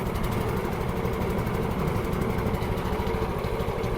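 Tracked dumper engine running steadily in second gear, a continuous close mid-low rumble with even, unbroken loudness throughout and no talk.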